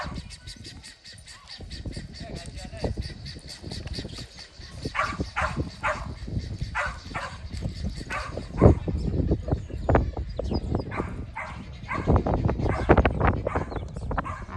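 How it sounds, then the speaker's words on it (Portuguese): Several dogs bark repeatedly in a vaquejada arena during training, sharp yelps and barks in irregular bursts at moderate distance, some overlapping and whimpering, over a background of outdoor noise. "Um tanto de cachorro no meio para tirar."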